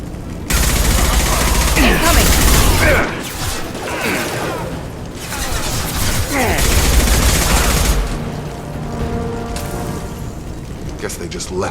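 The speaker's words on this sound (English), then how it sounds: "The Blue Suns and Vorcha shooting anything that moves." Bursts of sustained gunfire and heavy blasts fill a Mass Effect 2 firefight, loud and dense, easing between volleys and picking up again.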